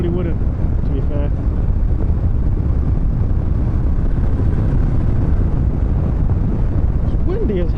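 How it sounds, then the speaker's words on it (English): Heavy wind roars across the microphone while riding a 2016 KTM 1050 Adventure motorcycle at speed, a steady, loud low rumble with a faint voice briefly audible underneath. "It's windy as heck though."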